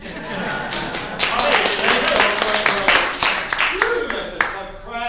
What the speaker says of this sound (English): y'all can applaud now